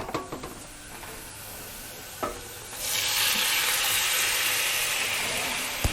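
White wine goes into a hot pan of browning shrimp for scampi, after a few light stirring clicks, and a loud, steady sizzling hiss takes over and continues.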